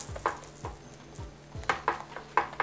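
A quesadilla pressed down and flipped in a frying pan, with light clinks and scrapes of a spatula against the pan coming in short separate knocks and a faint sizzle underneath.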